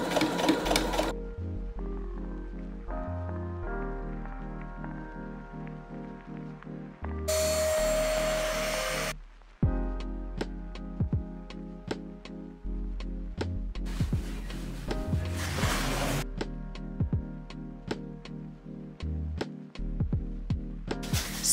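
A sewing machine straight-stitches the shoulder seams of a jumpsuit bodice in several bursts of rapid mechanical whirring, separated by short pauses and clicks, close and clear.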